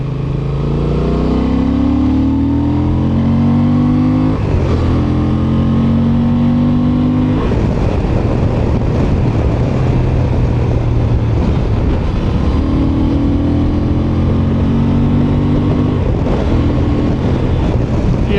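A 2025 Honda Transalp 750 motorcycle ridden in sport mode, its engine droning loud and close with rising and falling pitch through gear changes, buffeted by steady wind noise.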